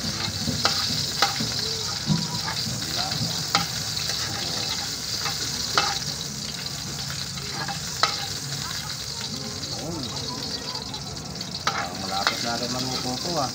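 Meat, onion and garlic sizzle steadily in a hot pan while a utensil stirs, clacking against the pan at intervals. The frying stays loud and close throughout with no talk.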